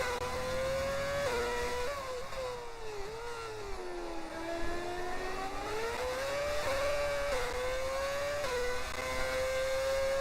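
A Formula 1 race car engine in a video game of the Brazilian Grand Prix, a loud, steady high-pitched whine that rises and falls through gear changes across the whole stretch, with no talking.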